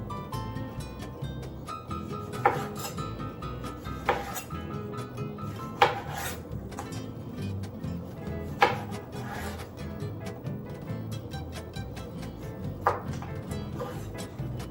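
A knife cuts tomatoes vertically into medium slices on a cutting board, producing sharp knocks every second or two over a low rubbing, scraping background, close and moderately quiet.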